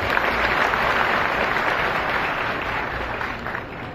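An audience at a BJP political gathering in Phaltan claps together in sustained applause, a dense even wash of many hands lasting throughout and slowly easing toward the end.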